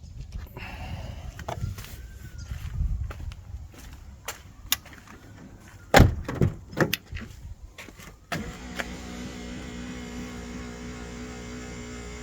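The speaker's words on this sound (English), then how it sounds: "to shut the back doors" The back doors of a parked camping vehicle are handled, giving a series of sharp thuds and clunks with one heavy slam near the middle, then a steady low hum.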